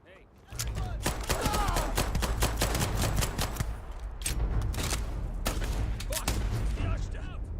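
Rapid video game gunfire, loud dense volleys of shots and bursts firing almost continuously, with voices talking over the shooting.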